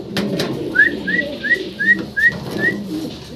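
A pair of black-and-white Danish pigeons with leg rings give a run of about six short, evenly spaced high whistling calls close by, over a murmur of low background noise.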